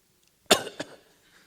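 Two close, sharp coughs, a strong one followed quickly by a lighter second, break a quiet pause during a church sermon's guessing game.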